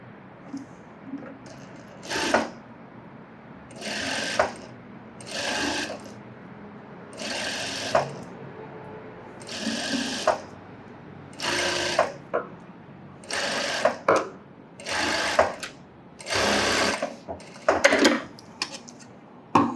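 A sewing machine stitching a blouse runs in short bursts of rapid needle chatter, about ten runs separated by brief pauses, close and clear with no talking.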